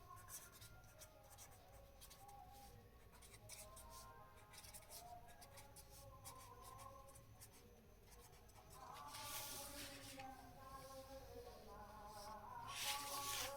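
A pen writing numbers on paper, faint scratchy strokes and soft scribbles in irregular bursts, growing a little louder toward the end, with no talking.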